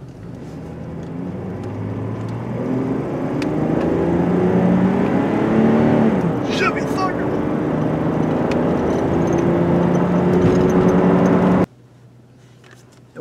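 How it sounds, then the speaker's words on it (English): GMC Envoy on a test drive after a no-throttle fault, engine droning and rising through gears under steady road noise, close and continuous, with a brief rattle midway before cutting off abruptly. "Was a successful test drive"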